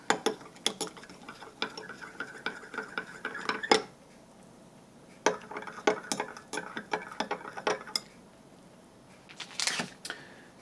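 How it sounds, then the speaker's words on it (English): A spoon scrapes and clinks around a metal mess kit while a German EPA combat ration meal is stirred, in two bursts of quick rattling taps separated by a short pause, with a final brief scrape. "Give it a bit of a stir."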